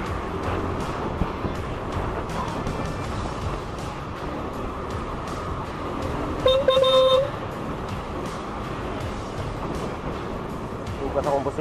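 A single short car horn toot sounds briefly amid continuous traffic and road noise, with people talking nearby.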